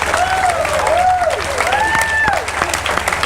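Crowd at a Toro Cup 9 wrestling match claps and cheers loudly after a well-received bout, with whistles and shouts cutting through continuous applause.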